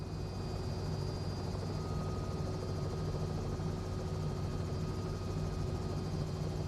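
Helicopter coming in to land at the Alfred Helipad in Melbourne in Microsoft Flight Simulator, a steady loud rotor and turbine drone that continues evenly throughout with no talking.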